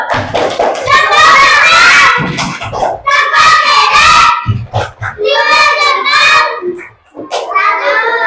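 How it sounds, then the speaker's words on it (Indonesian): Children in a classroom chant the tepuk jempol rhythm, their sung voices close and steady over short bursts of hand claps and light thumps, running nearly without pause. "Yuk kita mau tepuk jempol."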